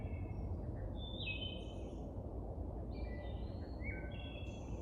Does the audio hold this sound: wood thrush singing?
yes